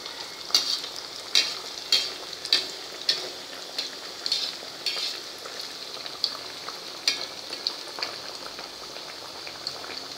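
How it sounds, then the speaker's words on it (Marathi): Suran (yam) vadas fry in oil in a kadai over medium heat, giving a steady bubbling sizzle with regular sharp ticks and pops, close and even, with no talking. "कढईत जेवढे बसतील तेवढे वडे आपण तळून घेणार आहोत।"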